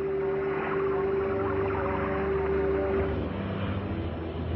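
American reconnaissance airplanes flying out of Lajes base in the Azores, a steady propeller engine drone with a constant tone and no break, loud and continuous.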